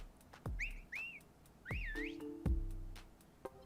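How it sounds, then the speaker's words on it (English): Several short rising and warbling whistles sound in the Detective Pikachu video game, punctuated by thumps and a sustained tone, fairly close and clear with no talk. "Whistle?"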